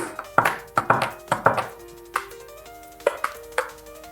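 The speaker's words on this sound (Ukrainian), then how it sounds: "я візьму ложку і просто перемішаю" A metal spoon clinks repeatedly against the side of a cup while stirring a chicory drink, sharp ringing taps in quick bursts, close and clear.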